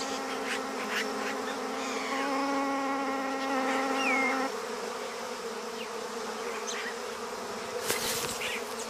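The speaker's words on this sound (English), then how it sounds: "They build their nests alongside colonies of wasps." A colony of wasps buzzes near hanging cacique nests in Amazon rainforest, a dense whining drone of many insects close by, with individual buzzes rising and sweeping over a steady background hum and no voices.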